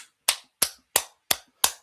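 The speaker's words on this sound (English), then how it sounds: "Applaud Kent." Five sharp, evenly spaced hand claps, close and crisp, each about a third of a second apart, applauding Kent during a live pseudoscience show.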